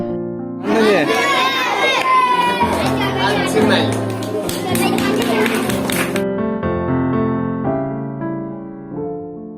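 Schoolchildren at a farewell gift ceremony, with parents present, loudly cheer and clap as classmates receive framed watercolour portraits of their own faces. The crowd noise is sustained for about six seconds, then gives way to steady musical tones.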